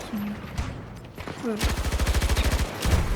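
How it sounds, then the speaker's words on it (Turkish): Gunfire in the shooter Battlefield 2042, heard as a rapid automatic burst of about a dozen close, loud shots, then another shot after a short pause. "Bize sıkıyor bizim adamlar da ya oradan."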